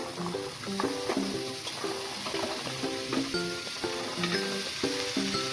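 Chopped beans, potato and brinjal sizzling in a pan for a Kannada palya, a steady close frying hiss with stirring clatter throughout, no one speaking.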